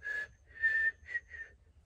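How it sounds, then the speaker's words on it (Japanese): Someone whistles a short tune of four quick notes, soft and close, with quiet low rumble underneath. "口笛出ちゃった"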